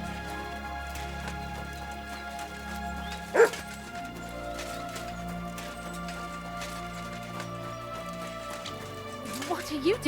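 A dog barks once, sharp and at mid distance, in a medieval village scene from Kingdom Come: Deliverance 2, under a steady ambient background with a few fainter yips near the end.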